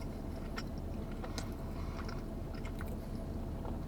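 Someone chews an underdone, extra-chewy sweet donut close up, with soft, continuous wet mastication and faint bites at a steady moderate level for a few seconds; nobody speaks.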